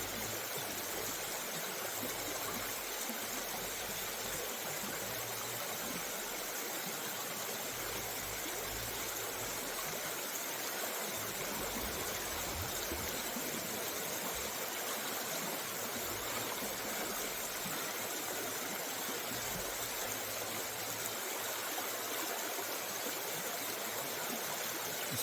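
A small river stream flows and trickles steadily for the whole stretch, a close, continuous broadband wash of moving water with no voices.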